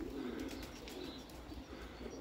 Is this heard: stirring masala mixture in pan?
no